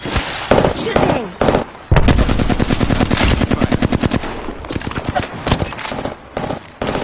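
Rapid bursts of video game gunfire crackle through a live gaming session, loud and dense, with clustered volleys and brief pauses between them.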